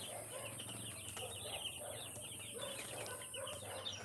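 Young broiler chicks kept in a small batch of about ninety, faint soft clucks and cheeps repeating continuously over a steady background hum and hiss, no voices.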